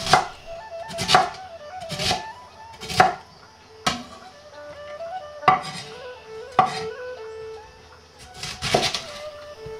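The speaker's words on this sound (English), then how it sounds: "You want to cut up your cabbage into smaller pieces and then cut your slices from there." A knife chops half a cabbage into smaller pieces on a cutting board, sharp crisp strikes landing in an irregular rhythm of about nine or ten distinct chops, close and clear with no talk.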